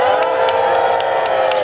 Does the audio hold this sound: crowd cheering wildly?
yes